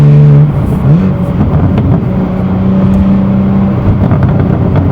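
A BMW G87 M2 with an AWE SwitchPath exhaust revs in Sport Plus mode, giving a deep, loud exhaust note that drops briefly and then holds steady. The engine settles to a rumbling idle, close and alone.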